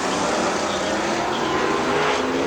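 A super late model race car runs a qualifying lap at Dixie Speedway, its engine a loud, steady roar held close throughout with no clear voices over it.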